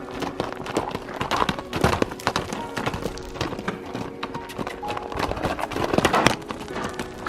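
Horse hooves clip-clop in an irregular, brisk rhythm during a ride in Bogotá, close and fairly loud, with occasional louder strikes and a brief whinny-like sound.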